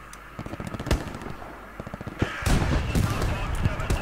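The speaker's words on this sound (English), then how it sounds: "Bombing run inbound." Bombing run explosions in a video game: a string of sharp blasts and gunfire cracks, then a heavier, louder roll of booming detonations in the second half, with a voice talking underneath.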